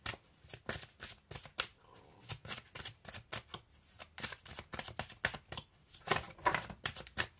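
Tarot cards being shuffled and drawn by hand, a quick series of crisp riffles and flicks close to the microphone, irregular in rhythm, with no talking.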